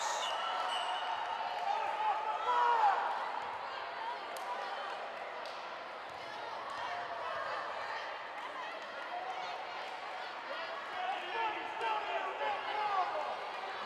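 Spectators at a women's college volleyball match between NCC and Wheaton College jeer and grumble at the officials after an out-of-bounds call, a steady, busy crowd murmur that swells and lingers throughout.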